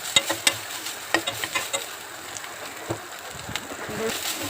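Soybean chunks seasoned with turmeric and salt fry in a pan with a low sizzle, while sharp stirring clicks and scrapes of a spoon come in irregular bursts close by.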